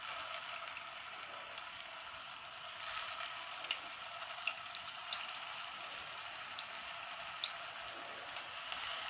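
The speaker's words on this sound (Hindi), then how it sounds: "अब इसमें हम कबाब डाल के फ्राई करना शुरू करेंगे।" Gola kababs frying in about seven tablespoons of preheated oil in a frying pan over a medium flame, giving a steady soft sizzle with scattered small pops throughout, fairly faint and with no talking.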